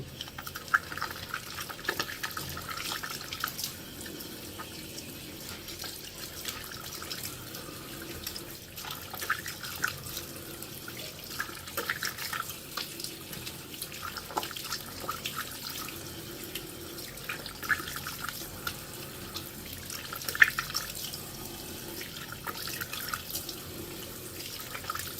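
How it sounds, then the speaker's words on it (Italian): Tap water runs steadily into a bathroom sink while a face is rinsed, a continuous close splashing rush with small irregular splatters throughout. "una volta che mi sono massaggiata per bene il viso, vado a sciacquare."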